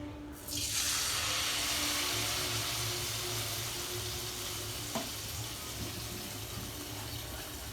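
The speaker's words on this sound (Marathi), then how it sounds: "तर आता मी फ्राय करून घेते याच्यामध्ये तेलात. पीठ त्याला मसाला सर्व लावून फ्राय करून घ्यायचे व्यवस्थित." Spiced batter-coated chicken lollipops drop into hot oil at home, setting off a sudden loud, sustained sizzle that holds steady and close, with a brief clink partway through and no talking.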